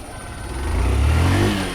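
Motorcycle climbing a steep slope near Kudremukh, its engine revving up and rising in pitch, close and loud, no talking.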